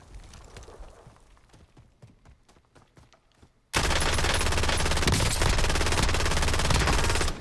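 Rapid automatic gunfire in Call of Duty Warzone, a run of sharp shots that suddenly gives way at the midpoint to a loud, dense, continuous wall of fire close up.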